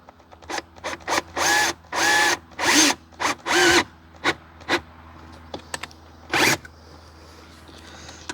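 Drill boring a hole in Mercedes GLC interior trim, with a series of short, close whirring bursts in stop-start rhythm followed by a few quieter clicks and handling sounds.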